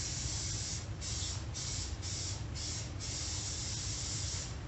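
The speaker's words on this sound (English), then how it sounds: "Now we're going to spray the pan before we mix this." Continuous hissing spray from an aerosol can of cooking spray onto a baking pan, close and steady, with a few brief pulses as the nozzle is pressed.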